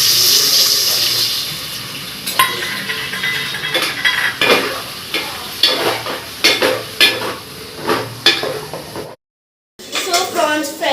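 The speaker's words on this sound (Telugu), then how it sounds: "సో ఇప్పుడు ప్రాన్స్ ఫ్రై చేసుకోవాలి." Prawns frying in a pan for a prawn and lady finger curry, a steady close sizzle with stirring scrapes and clatter, under a voice talking, ending after a short gap.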